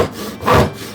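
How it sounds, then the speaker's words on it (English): A coping saw cuts through wood in one short rasping stroke that swells and fades within a second, close up, with no talking. "Because it's a coping saw."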